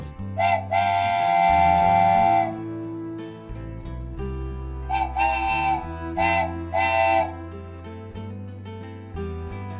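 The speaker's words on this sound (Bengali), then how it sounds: "দেখতে পাচ্ছ গোল্ডেন স্টার পার্কের জনপ্রিয় একটি রাইড ট্রেন রাইড" A small amusement park train ride at Golden Star Park in Narsingdi, Bangladesh, runs with a low rumble and repeated loud whistle or horn toots, one long blast followed by several shorter ones, heard close by without talk.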